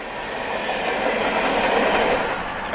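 A freight train with a DPU locomotive rolls past close by, a steady loud rumble and rush of rail cars with faint clickety-clack running the whole time and no voices.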